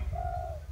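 A spotted dove gives a single soft, drawn-out coo, close and clear against a low background rumble.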